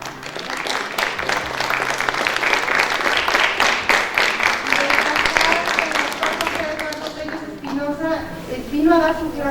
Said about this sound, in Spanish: del doctor José Eduardo Pérez Espinosa, a quienes les pido le demos un fuerte aplauso, por favor